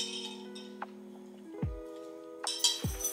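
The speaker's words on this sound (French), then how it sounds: "un grand verre d'eau avec des glaçons, c'est la base" Ice cubes clinking against a glass of water, several sharp separate chinks spread over a few seconds, close and fairly quiet with no talking.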